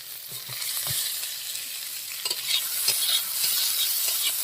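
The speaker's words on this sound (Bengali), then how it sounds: "এবার আমি দিয়ে দেবো কাঁচা লঙ্কা আমি দেব তুমি দিবা তাহলে দেবো ফটফট ছিটতে এরপরে দিয়ে দেবো পেঁয়াজ" Green chillies and onion fry in fish oil as a spoon stirs them: a continuous close sizzle with soft scraping strokes throughout.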